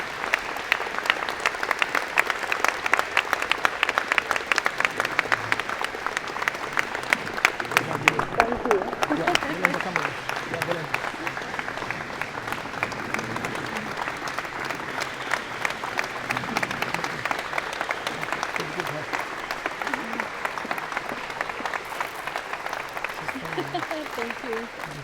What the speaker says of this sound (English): give Lubita a big round of applause